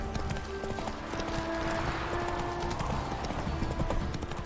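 Horse hooves clip-clop steadily along in The Witcher 3, a close, rhythmic trot with a brief whinny-like tone partway through, under soft ambient game background.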